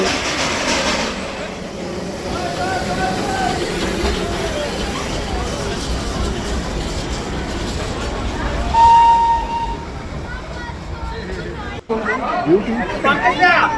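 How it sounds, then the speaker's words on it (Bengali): The Darjeeling toy train rumbles steadily around Batasia Loop in the hills, with a short horn blast partway through, and people chatter and talk over it throughout. "বাতাসিয়া লুপে এই ট্রেনটা যখন ঘুরে এত সুন্দর লাগে"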